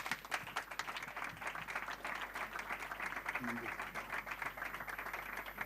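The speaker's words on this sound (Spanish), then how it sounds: "un aplauso" An audience applauds steadily at a talk in a full hall, a dense patter of clapping that holds at an even level throughout with a few voices murmuring underneath.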